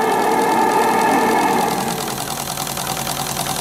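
A Stuart D10 live-steam water pump runs steadily and loud, a dense continuous mechanical chugging with fast rhythmic beats that lightens slightly partway through, with no talking.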